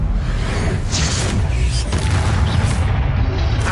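A Confringo spell blasting in Hogwarts Legacy: a quick run of booming, whooshing bursts with a bright crackling edge, loud and close over a rumbling low end.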